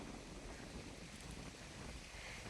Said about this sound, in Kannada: ನೋಡಿ ಗಾಯ್ಸ್, ಗಾಳಿ ತುಂಬಾ ಜಾಸ್ತಿ ಆಗ್ತಿತ್ತು.